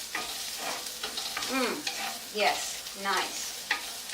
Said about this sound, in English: And now I will saute these onions.